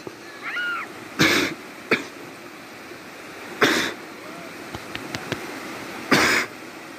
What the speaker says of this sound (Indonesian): Aduh batuk gue.